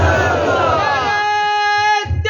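At a Islamic religious gathering, a large crowd answers the speaker's call with a loud, sustained chanted slogan, many voices merging into one drawn-out tone that fades near the end.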